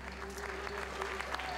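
Audience applause for a singer, a steady wash of clapping at moderate distance with a faint tonal hum underneath.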